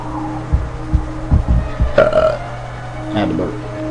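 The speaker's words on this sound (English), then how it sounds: "Had to burp." A loud burp rises out of a player's noisy gameplay session of Dante's Inferno, standing clear of steady game rumble and scattered thumps.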